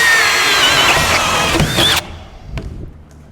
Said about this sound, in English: even with the self-feed bit, pulling it through the material